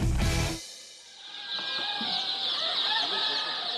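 White Silkie chickens on a large poultry farm make a loud close squawk, then a steady chorus of high peeping and clucking from many birds spreads behind it.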